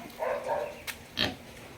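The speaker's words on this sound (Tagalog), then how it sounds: "Ayan, meron siyang malalaking baboy." Large pigs behind a house on a farm give a few low grunts and oinks, close by, with a short sharp knock between them and quiet farmyard background.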